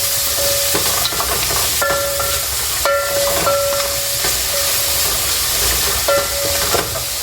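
Meat and onions sizzle and hiss steadily in a hot pan while being stirred for loaded fries, a continuous close frying noise with occasional clinks and scrapes of the spoon and no talking.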